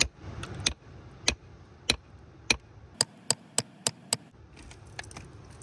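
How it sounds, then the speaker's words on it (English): A hammer tapping a shale slab to split it, about a dozen sharp, close taps, spaced out at first, then coming in a quicker run before a few lighter clicks. "So let's give it a few more taps."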